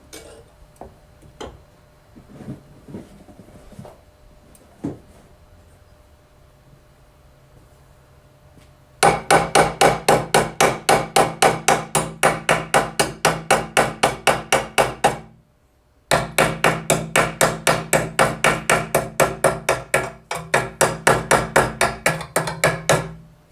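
Hammer whacking a Case 224 mowing deck, first a few scattered knocks, then a fast steady run of loud ringing metallic blows, a brief pause, and another rapid burst of strikes up close.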